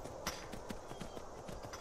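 Horse hooves clip-clop in a steady trotting rhythm in the Skyrim video game, a series of close, distinct thuds over a low ambient background, with no talking.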